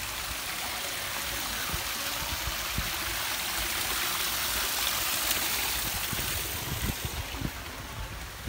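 Fresh water of a stream flowing through a wadi in Sohar, Oman, a steady broadband rush and gurgle that stays continuous and fairly close for the whole stretch, with no talk over it.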